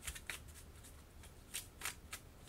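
Cards are shuffled during a tabletop game of Kingdom Death Monster, giving a quiet, close series of soft riffling flicks and taps over about two seconds.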